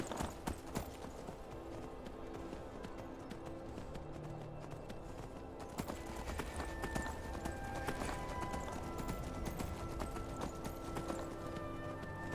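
Horse hooves galloping in Skyrim, a steady rapid clip-clop of hoofbeats that carries on throughout, mixed with game ambience.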